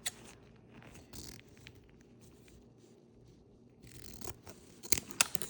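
Scissors cut ribbon from a spool at close range, a faint run of small snips and rustles followed by a few sharper clicks near the end. No voice is heard.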